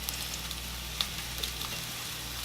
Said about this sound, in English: that salmon is still cooking. It's been cooking for about maybe 5 minutes on the skin